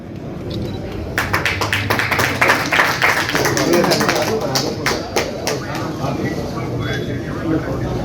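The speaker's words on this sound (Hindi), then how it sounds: "एक बार जोरदार तालियां राजीव चौहान जी के लिए" Loud, sustained applause for Rajiv Chauhan at an Aggarwal Sewa Sangh civic felicitation ceremony, a crowd clapping for several seconds before it thins out, with a voice speaking over the hall.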